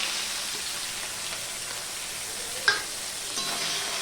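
Crushed ginger and green chili fry in hot oil, a steady close hiss of sizzling with a sharp spatter or pan tap partway through and a softer one after.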